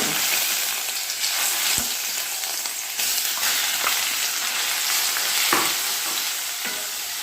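Grated gourd sautés in ghee with a continuous hiss of frying, broken by a few sharp spatula clicks as it is stirred, close and steady with no speech.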